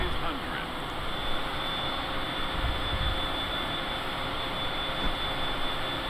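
A Cessna Citation's jet engines roar steadily with a broad whoosh and whine as power is added on landing approach near Reno/Stead, heard from the cockpit with constant noise and no clear words.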